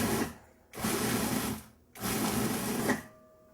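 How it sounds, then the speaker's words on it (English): Food processor pulsing cold cubed butter into flour for a sour cream coffee cake, three loud close bursts of motor whir separated by short silences. "And now we're going to cut the butter. It's cold butter that I've cubed. We want to pulse it until it resembles coarse sand."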